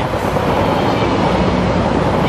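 Noisy, loud and continuous, a passing train roars steadily by with broad rushing rumble and no voices over it.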